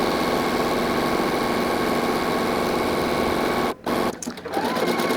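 A sewing machine running a zigzag stitch to attach lace insertion for heirloom sewing, humming in a fast steady whir close by, then briefly stopping and starting again before running on.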